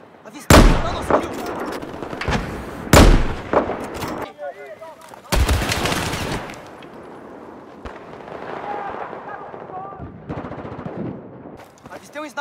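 Gunfire in Battlefield 4 during a sniper killstreak with M45, .44 Magnum revolver, M40A5 and .50 Cal: several loud, sharp shots at irregular intervals, followed by quieter game ambience and distant bursts.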